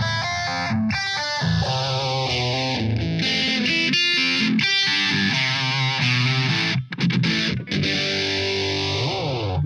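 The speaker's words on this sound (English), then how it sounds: "With my phaser." An electric guitar played through a phaser effect pedal for a classic rock tone, with distorted chords under a slowly sweeping swirl, loud and continuous with brief gaps near the end.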